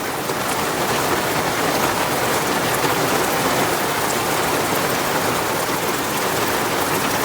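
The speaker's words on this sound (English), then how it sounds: "So this bit of rain might last a while." Steady heavy rain pouring down during a storm at a Kinkuna Beach campsite, a dense unbroken hiss of drops hitting surfaces all around, close and constant with no talking.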